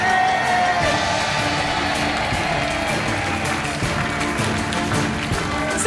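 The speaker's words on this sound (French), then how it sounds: "On vous laisse repartir sous les applaudissements." A studio audience on the French game show Money Drop breaks into sustained applause with cheers and whoops, a loud, dense wall of clapping that holds steady throughout.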